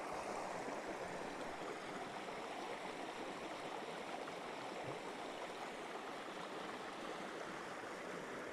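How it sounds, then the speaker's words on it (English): Woodland stream flowing steadily over its bed, a soft, continuous broadband rush and babble heard alone with no talking. "the water just sounds so nice right here"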